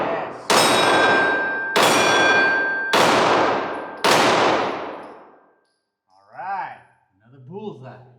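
A Glock 19 Gen 5 pistol fires four sharp shots at a steel target, evenly spaced about a second apart. Each shot brings a bright metallic ring that fades slowly, and someone speaks briefly afterward.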